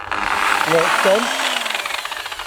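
A polisher on a sailboat snagging a loose wire, a loud close rattling, chattering mechanical burst with a wavering tonal whine, ending in rapid clatter.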